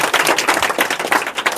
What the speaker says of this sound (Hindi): चलो मारो ताली एक बार।